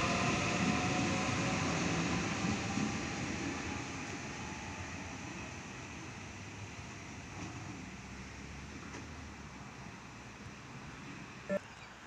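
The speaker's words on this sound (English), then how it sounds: "my train back down south is now arriving into platform 1" A Sydney suburban train, the Penrith service, rolls into the platform at Killara station with a steady broad rumble and hiss that slowly eases as it arrives, with a brief sharp click near the end.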